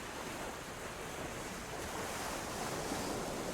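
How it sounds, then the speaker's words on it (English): Water in the Gothic 1 Remake video game rushes as a continuous, even broadband roar like surf or a torrent, steady throughout with no talk over it. "Loud ass water, as always."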